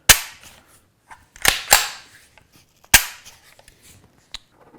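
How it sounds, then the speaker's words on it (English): Dry firing a Ruger 10/22 Takedown rifle after reassembly: several sharp, close mechanical clicks and snaps from cycling the action and dropping the hammer, spread over a few seconds with quiet gaps between. "Make sure it cycles, dry fire."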